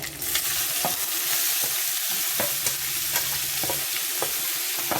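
Mustard seeds, curry leaves, onion, green chilli and peas fry and get stirred in a pan for upma, giving a steady close sizzle with intermittent spattering pops and scraping stirs, no voices.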